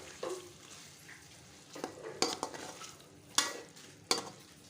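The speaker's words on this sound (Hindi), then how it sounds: "इन सारे मसालों के साथ हम चिकन को अच्छे से भूनेंगे" Chicken browns in a pan with coriander powder, black pepper and other spices, giving a soft sizzle broken by several sharp scrapes and clinks of a spoon against the pan.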